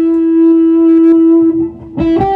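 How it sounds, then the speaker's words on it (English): A Les Paul electric guitar with 1970s T-top pickups, played through a small AC drive pedal into an old Deluxe Reverb amp, rings out one sustained, gritty overdriven note, then a few rougher strummed chords close up near the end. "This is just through a little AC drive into an old Deluxe Reverb."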